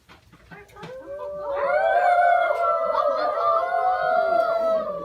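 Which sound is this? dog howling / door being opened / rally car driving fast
dog howling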